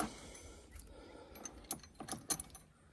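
Bolts and washers dropped into place while installing a MOLLE storage panel in a Toyota 4Runner interior, a few small, close metallic clinks and jingles clustering toward the end, quiet and without talk.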